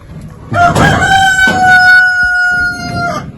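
A rooster crows loudly and close by, one long drawn-out call with clucking hens around it.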